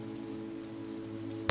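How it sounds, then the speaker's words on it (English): Steady rain streams down windows on a gray rainy night, a soft continuous hiss and patter that holds evenly throughout with no voices. "As the rain streams down the windows"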